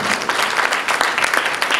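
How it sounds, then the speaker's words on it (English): Audience applause at a live magic and mentalism show, a dense steady clatter of many hands clapping close by for the full two seconds, with no talk over it. "Give yourselves a good round of applause for being a good audience."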